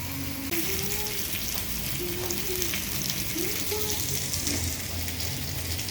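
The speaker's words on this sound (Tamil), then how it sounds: "நல்லா கொதிக்குது பார்த்தீங்களா?" A steady bubbling and hissing boil from a pot of noodles, constant and fairly loud, with faint speech in the background.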